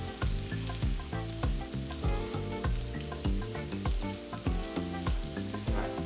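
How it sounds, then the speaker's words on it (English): Chicken pieces fry in hot oil in a pan, a loud, close, continuous sizzle with repeated bursts of crackling and spitting that rise and fall in a steady rhythm, no voices. "Oh, listen to the sizzle,"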